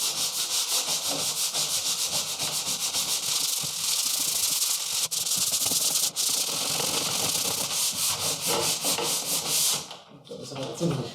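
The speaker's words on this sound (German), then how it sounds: "kann man hier dann gerade so ein bisschen drüber schleifen und quasi so ein bisschen den Sekundenkleber und besser die Überstände vom Sekundenkleber glätten" Sanding paper scrubs steadily over hardened superglue residue on a model car road system's contact wire, a continuous close abrasive rasp with rhythmic strokes that stops near the end.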